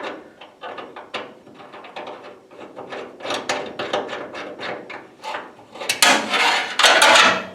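A provided bolt is worked into a hole by hand, giving a close series of short scraping, rasping metal-on-wood contacts and small knocks that grow denser and louder toward the end, with no talking.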